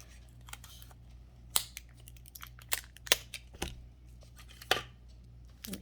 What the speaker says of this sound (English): I'm using some clear tape